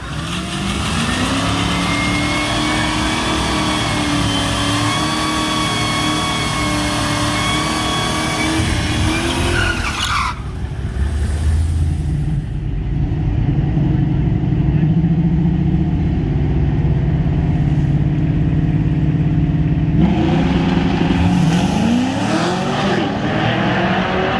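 An MXA test motocross bike roars around a dirt track, engine revving hard and shifting pitch as it accelerates, then fading and surging again, loud and continuous throughout.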